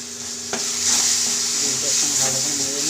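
Bean paste made from flat beans hitting a pan of fried garlic, a sudden sizzle that swells into steady frying with stirring scrapes and soft bubbling, close and loud.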